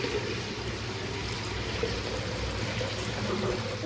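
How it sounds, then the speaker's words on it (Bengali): Water pours steadily into a cooking pot for khichuri, a continuous splashing trickle at close range with no talk. "পরিমাণ মতো জল নিয়ে বসিয়ে দিচ্ছি।"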